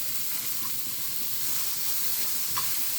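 Green chilli chicken with coriander leaves sautéing in a hot pan, a steady soft sizzle with occasional stirring clinks, close and moderately quiet, no talking.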